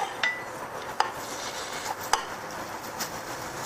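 Shiitake mushrooms and meat stir-frying in sesame oil for a Korean rice porridge, a quiet sizzle broken by a few sharp clinks of a utensil against the pan, close and sparse, with no voices.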